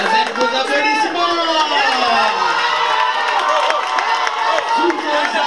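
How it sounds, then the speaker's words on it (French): An audience at an inter-university eloquence contest final cheers loudly and continuously, a dense mass of shouting voices with scattered claps and whoops, close and steady throughout. "Avec vos applaudissements."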